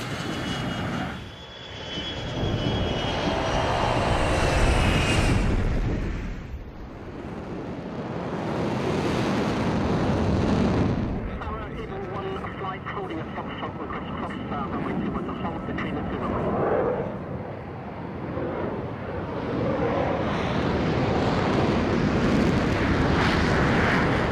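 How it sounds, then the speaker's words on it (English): Fighter jets take off from Nellis, their engines roaring in loud swelling surges that rise and fade, with radio and voice chatter over the din. "you're cleared for takeoff"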